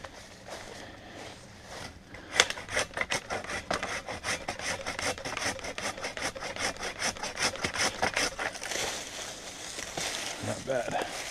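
An Ichiban Samurai hand saw cuts wood while clearing shooting lanes outdoors, making a fast rhythmic rasp of push and pull strokes that runs steadily for about nine seconds, close and clear.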